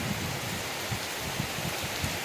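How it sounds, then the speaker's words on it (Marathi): Unseasonal rain falling in a village area, a soft, steady patter with faint drops tapping on surfaces, low in level and continuous for the whole short stretch. "येडगाव परिसरात अवकाळी पावसाने लावली हजेरी"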